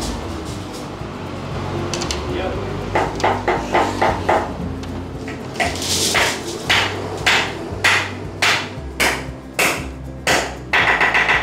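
Repeated hammer blows during construction work on a bedroom, ringing out in irregular bursts that speed into a steady rhythm of loud, close strikes over a low background hum.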